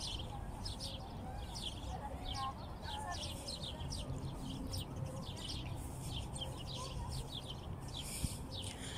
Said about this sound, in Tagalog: Yung pernis, ang daming ibon ha.